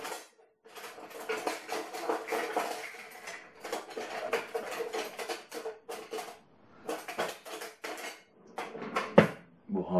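Pots and plastic or metal utensils clatter and clink in repeated bursts as someone rummages through a kitchen drawer or cupboard looking for a ladle, close by, with brief pauses between handfuls.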